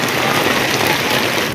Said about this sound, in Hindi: बहुत तेज बारिश आ चुकी है